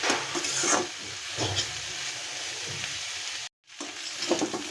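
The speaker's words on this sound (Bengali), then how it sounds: "লতিটা কিন্তু এখানে ভাজা ভাজা হয়ে গেছে" Taro stolons (kochur loti) fry in a pan with a steady close sizzle and hiss, broken by stirring scrapes and a brief silent gap before the frying resumes.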